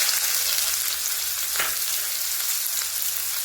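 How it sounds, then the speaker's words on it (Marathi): Chopped onion sizzles in hot oil with mustard seeds and cumin, a loud, even crackling hiss close by with a brief sharper splutter partway through. "मोहरी घालत आहोत हे जिरं घातलेलं आहे हा आपण कांदा घालत आहोत"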